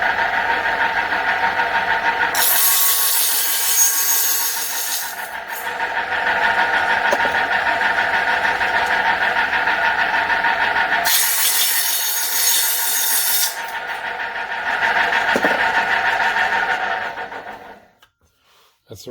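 Table saw cutting a piece of wood for a ceiling overhead storage hanger: two loud, close bursts of whining blade bite over a steady motor drone, then the motor spins down to quiet.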